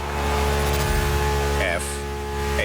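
A Ferrari F80 supercar engine in The Crew Motorfest racing game, a loud steady droning roar with rising revving tones toward the end, heard under a narrating voice.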